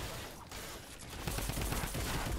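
Shotgun fire in the Fortnite battle royale game: quick bursts of shots that grow denser and louder in the second half, heard without speech.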